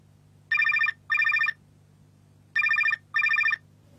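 A telephone rings on a construction site in two pairs of clear, electronic bursts, alone over a low steady hum of background machinery.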